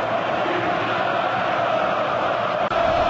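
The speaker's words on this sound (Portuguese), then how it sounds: "O suficiente para acordar a torcida, para agitar a torcida no estádio." Corinthians fans in a football stadium, a dense, steady crowd roar sustained throughout, loud and enveloping with no distinct single voices.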